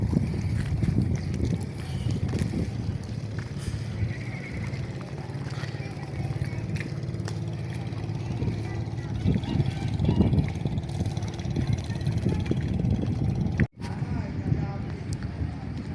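Large B8 marine engine on a boat during a sea trial, a dense continuous low rumble with wind and water noise, heard steadily throughout while people talk over it.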